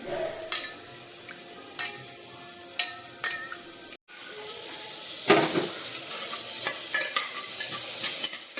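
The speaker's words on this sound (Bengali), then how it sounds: "খিচুড়ি হালকা একটু ফ্রাই করে নেবো, তারপরে চাল ডাল ভিজিয়ে রেখেছি" Khichuri being lightly fried in butter with stirring, a soft sizzle under repeated scraping strokes of a spoon in the pan, close and steady with a brief break midway.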